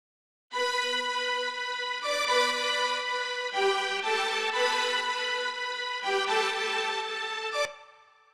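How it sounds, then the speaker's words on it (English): Sidechained synth strings in a future disco track, sustained chords ducking and swelling on every quarter note in a steady pumping rhythm, loud and alone. "This will make the strings to duck every quarter note."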